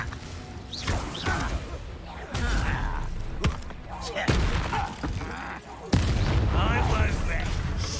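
Confringo blasting spells exploding in the video game Hogwarts Legacy: several punchy, booming bursts spaced a second or so apart, amid combat noise and voices.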